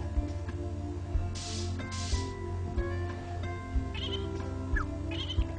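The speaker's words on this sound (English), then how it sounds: "a baby sheep." A baby sheep bleats in Harvest Moon: Tree of Tranquility, two short nasal cries followed by fainter ones, over a looping farm tune with soft rhythmic thumps.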